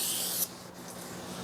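A cloth rubs briskly across a Honda Pilot rear brake rotor to wipe off oil, a hissy scrubbing stroke that stops abruptly, followed by a quieter steady background.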